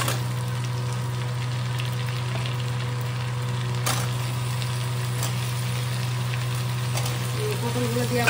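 Pointed gourd (potol) pieces fry in oil in a pan, a steady, moderate sizzle with a few faint clinks under a constant low electrical hum.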